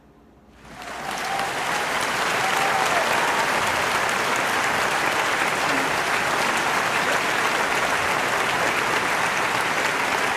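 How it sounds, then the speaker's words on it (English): Applause from a crowd erupts after a second of quiet and keeps going as a dense, steady wash of clapping at full strength, with no talking over it. "Stop clapping!"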